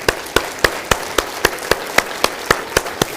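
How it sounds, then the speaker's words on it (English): Claps at a city State of the City address, honouring guests in attendance: about a dozen crisp, evenly spaced hand claps in a steady, metronome-like beat, fairly close and even in loudness, with no talk. "let's give them a round of applause for being here today"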